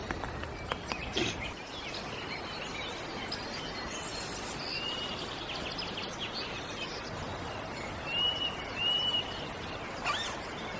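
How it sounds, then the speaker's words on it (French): Small birds chirp and twitter faintly in the distance over a steady outdoor background hum, in the morning, with a few brief louder knocks. "j'écoute les petits oiseaux"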